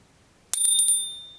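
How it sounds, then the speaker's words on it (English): A bright, bicycle-style notification bell rings as a quick run of four metallic dings, loud and close, ringing out briefly after a short silence. "please subscribe and also hit that bell notification"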